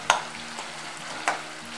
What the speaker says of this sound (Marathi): हे टमाटर पण मऊ होईपर्यंत भाजायचं आहे